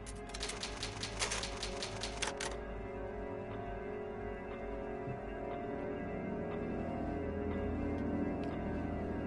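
Rapid mechanical typewriter clatter from the Resident Evil save typewriter, a quick burst of keystrokes lasting a couple of seconds, followed by lingering low ambient game hum with occasional faint ticks.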